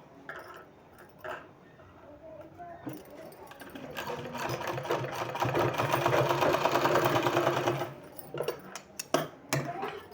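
A sewing machine runs a steady stitching burst over folded fabric for a neck design, rising to a loud continuous whir in the middle before stopping, with brief mechanical clicks and handling sounds around it.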